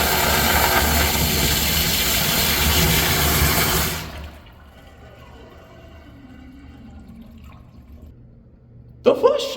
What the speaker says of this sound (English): The flush on this particular version is a lot different compared to the second generation Eljer signature wall-hung.